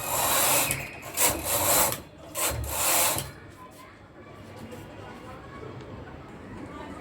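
A hand-operated sweater knitting machine carriage slides across to make plain stitches, several loud rasping sweeps in the first three seconds, then quieter clicks and rubbing.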